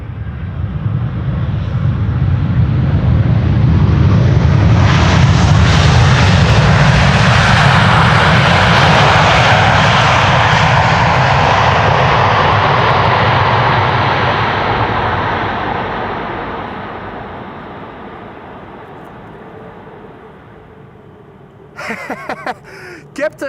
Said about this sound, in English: Delta Airlines Flight 74, arriving from Atlanta